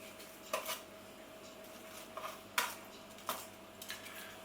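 Oven-baked potato croquettes being flipped on a tray: a handful of light metallic clinks and taps, spaced irregularly, faint and close against quiet kitchen background.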